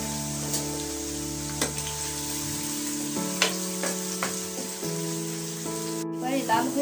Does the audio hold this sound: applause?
no